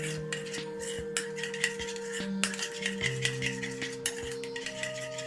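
A spoon stirs and clinks in a bowl of idli batter mixed with black pepper powder, giving soft, close scraping with repeated light metallic taps.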